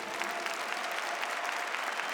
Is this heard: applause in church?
yes